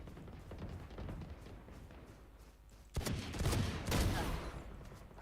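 Shotgun blasts in a video game: a few sharp, booming shots close together near the end over a busy background of game noise.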